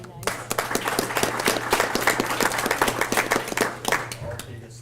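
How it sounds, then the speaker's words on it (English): Brief round of applause at a school board of education meeting honoring a student, with separate hand claps from a modest group in a room, a steady hum underneath, fading out at the end. "So again, a quick round of applause."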